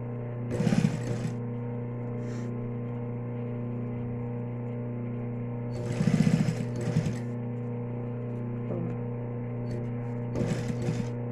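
Sewing machine stitching a small mini-backpack keychain, three short bursts of fast mechanical stitching separated by pauses over a steady electrical hum.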